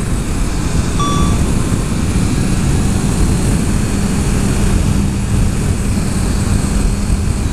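A 2014 Honda CBR650F with an inline-four engine drones loud and steady while riding, its constant engine roar blended with heavy wind rush and no letup.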